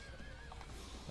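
Horse from the video game Sengoku Basara 4 lets out a short, high whinny, quickly followed by a few soft hoof clops, brief and fairly faint.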